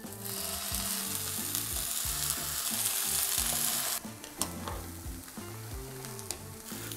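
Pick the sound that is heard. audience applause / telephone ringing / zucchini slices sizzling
zucchini slices sizzling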